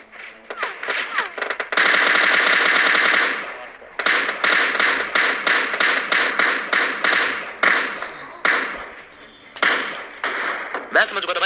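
Gunfire in a shooter video game where an M24 sniper rifle is in use: a long burst of rapid automatic fire followed by a run of loud, evenly spaced shots, heard close and sharp.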